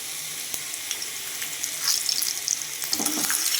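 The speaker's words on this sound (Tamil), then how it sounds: "மிளகா பார்த்திங்கன்னா நல்லா பொரியட்டும் எண்ணெயில்." Five or six dried red chillies fry in hot oil for a Tamil perandai thuvayal, giving a steady close sizzle with faint crackles and a few soft knocks, and no talk.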